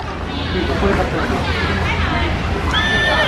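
A horse whinny, probably from a toy, rings out amid the hubbub of a Costco store in Japan, with people chattering and talking around it.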